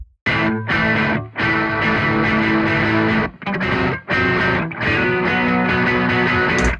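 Electric guitar played through a Laney Ironheart Aurora DSP pedal on a mild clean-drive setting, loud and upfront, with strummed chords ringing out in bursts separated by short pauses.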